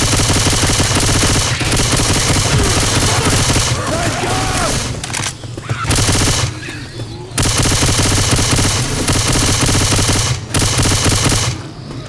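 Sustained rapid automatic gunfire in Left 4 Dead 2, loud and close, running in long bursts with two brief pauses, a voice occasionally heard underneath.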